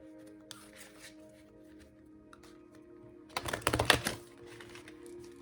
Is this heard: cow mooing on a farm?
no